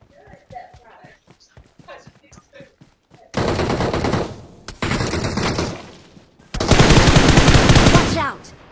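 Bursts of automatic gunfire from the PUBG Mobile battle royale game, two long loud volleys that follow a stretch of quieter clicks and taps. No one speaks.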